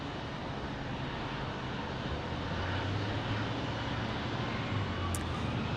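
A Southwest Airlines airliner at Phoenix Sky Harbor Airport makes a steady broad engine roar with a low hum underneath, sustained and even throughout at moderate distance, no voices.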